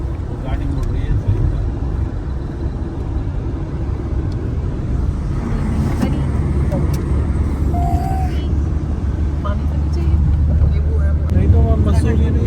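A car drives and turns on the Purvanchal Expressway during a Delhi-to-Nepal family road trip, producing a steady, loud, low road and engine rumble from inside the cabin that holds almost unchanged throughout.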